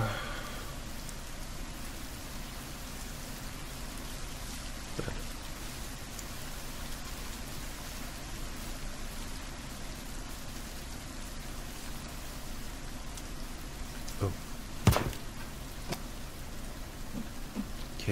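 Steady hissing rain patters without pause throughout in the video game The Forest, with a few faint knocks and a brief sharp crack near the end.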